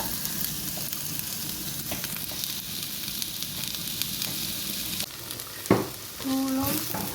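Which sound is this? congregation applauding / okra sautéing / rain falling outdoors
okra sautéing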